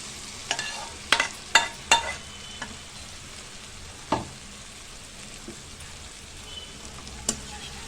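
Okra (bendakaya) frying in a pan for a besan okra fry, a soft continuous sizzle punctuated by several sharp clinks and scrapes of a spatula against the pan, close and without talk.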